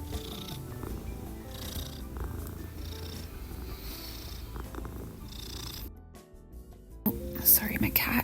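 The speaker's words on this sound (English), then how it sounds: "Sorry, my cat. You can probably hear her." A pet cat purrs close by in a quiet room, a soft rumbling purr running beneath a person's whispery speech and light rustling, cut off briefly near the end.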